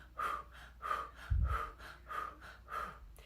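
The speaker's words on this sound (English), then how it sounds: "Forced breathing would mean that we're forcing an exhale, forcing us to take an inhale" Forced yoga breathing with rhythmic, audible breaths close to the microphone, about five strong cycles of pushed exhales and drawn inhales in a steady pattern, with one heavier puff partway through.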